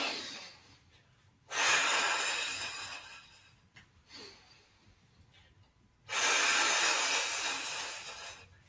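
Two long, deep exhalations during a shiatsu breathing exercise, each a steady, breathy rush of air lasting about two seconds, close and fairly loud, with quiet pauses between them.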